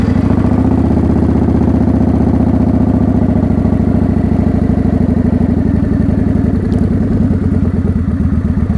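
A motorcycle engine in neutral, running steadily with a loud, close, even mechanical clatter that stays continuous throughout with no voices.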